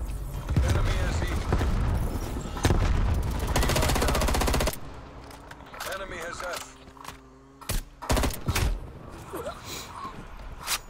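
Automatic FAMAS rifle fire in the video game Black Ops Cold War, a dense burst of rapid shots for several seconds, followed by scattered single shots, game effects and voices.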